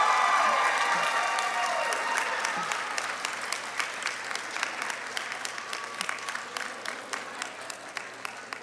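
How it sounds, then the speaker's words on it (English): An audience at a nursing college graduation ceremony claps in sustained applause that starts full and dense, then thins into scattered, individual claps as it fades. "give them a round of applause for all their"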